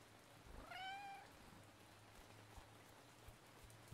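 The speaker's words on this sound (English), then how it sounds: "There's the kitty." A cat meows once, a single rising-falling call, in the horror game We Harvest Shadows, heard over a steady patter of rain with low rumbling ambience and a few faint knocks afterward.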